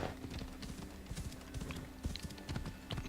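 Horse hooves clip-clopping in Assassin's Creed Odyssey, a quick, uneven run of hoof strikes close by over a steady low background hum, with no talking.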